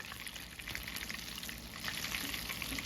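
Catfish frying in hot oil in a cast iron skillet for a Southern-style recipe, a steady, fairly quiet crackling sizzle with dense bubbling pops heard close up with no talking.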